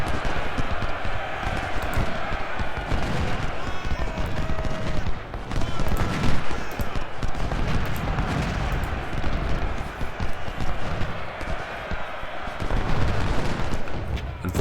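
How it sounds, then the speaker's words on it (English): Musket volleys and battle noise from the Civil War strategy game Ultimate General: Civil War at the Gaines Mill trenches, with a dense, continuous crackle of rifle fire, distant booms and rumbling under a loud battlefield din. "Reckon we've got a few more volleys left."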